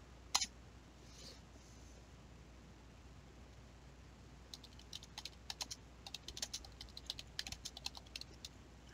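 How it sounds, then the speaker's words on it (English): Fast typing on a computer keyboard while writing a research paper: rapid light key clicks in quick bursts after one sharper click near the start, quiet and close over a faint background hiss. "I'm a typing machine."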